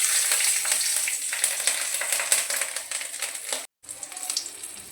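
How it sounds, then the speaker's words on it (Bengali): Rohu fish sizzles in hot oil in a pan with black cumin and green chillies, a steady close crackling hiss with a brief cut-out near the end and no talk. "মাছগুলো ভাজা হয়ে গেলে ওর মধ্যেই দিয়ে দেব কালো জিরে আর কাঁচা লঙ্কা"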